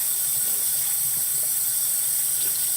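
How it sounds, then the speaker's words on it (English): Hot water runs steadily from a tap onto a rag as a constant broadband rush with no breaks, close by and fairly loud, and no voices are heard. "I'm just gonna run some hot water as hot as I can get it into this rag."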